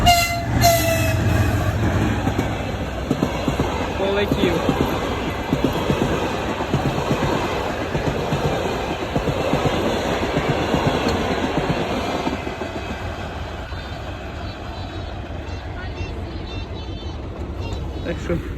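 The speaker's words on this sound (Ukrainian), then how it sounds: "Їде потяг." A train rolls past close by, its horn sounding at the start, wheels clattering rhythmically and fading gradually as a voice speaks briefly.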